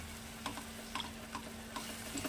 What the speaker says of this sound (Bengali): এটা টকবক করে যখন ফুটছে